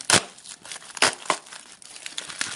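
A plastic Temu package is torn open by hand, with brisk close crinkling and ripping in a few sharp bursts, loud and alone without talk.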